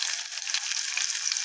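Onion frying in a pan for farofa, a dense continuous close sizzle of bright crackling hiss, steady and loud without talk.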